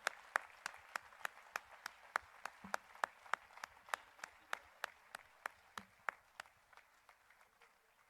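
A small audience at a Jain religious gathering claps in a slow, evenly spaced rhythm, about two dozen sharp, distinct claps at a steady pace, fairly faint, with no talking over them.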